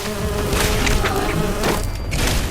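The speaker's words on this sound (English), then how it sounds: "I've got the bloody bees to deal with" Swarming bees in the Fallout 76 video game drone in a steady, dense buzz that fills the whole stretch, loud and close with no speech over it.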